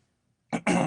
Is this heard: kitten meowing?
no